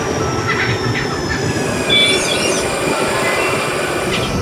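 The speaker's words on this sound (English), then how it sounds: "Okay lads, our train has arrived." A Chinese high-speed bullet train pulling into a station, a loud continuous rumble of wheels on rails with high, sustained squealing and whining tones as it slows alongside the platform.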